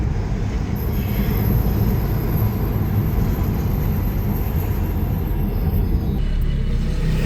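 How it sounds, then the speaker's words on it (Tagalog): Steady road traffic rumbling around a roundabout in Cyprus, a dense continuous wash of engine and tyre noise at close range with no pauses, heard alone without voices. "Traffic tayo guys."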